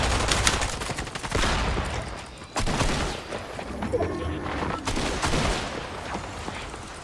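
Rapid bursts of gunfire ring out in Fortnite during an FNCS Pro-Am match, with dense clustered shots and booms stacking up across the whole stretch at close range and high volume.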